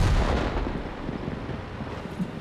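A tank cannon fires in World of Tanks with a deep, heavy boom that rolls out into a long, fading rumble, loud and close.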